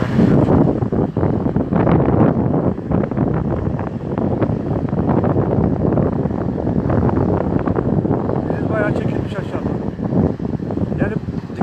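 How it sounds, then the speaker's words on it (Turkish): Strong poyraz wind on a seaside street in Karamürsel buffets a microphone with continuous rumbling gusts, loud and unbroken, with a faint voice briefly audible beneath the roar. "Bu tarafa geldiğinde biraz rüzgar daha biraz daha hızlanıyor."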